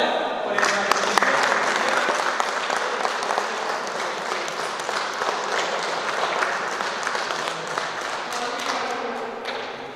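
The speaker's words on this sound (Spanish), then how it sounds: "hacemos un aplauso, por el matrimonio" Audience applause for a married couple at their silver wedding anniversary celebration, a steady wash of many hands clapping that holds for the full ten seconds, dense and fairly close, with some voices mixed in.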